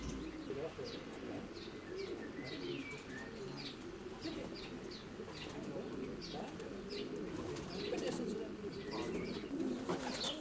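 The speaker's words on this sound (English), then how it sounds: "Beautiful pigeon." Racing pigeons coo softly in a loft, with many faint chirps and calls scattered over a murmur of voices and low background noise.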